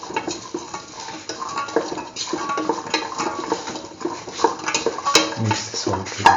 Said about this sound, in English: Mix the salt with the rest of the mixture.